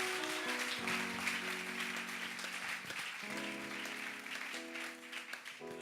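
A church congregation applauds steadily and loudly throughout, a dense wash of clapping over sustained tonal music that changes chord a few times.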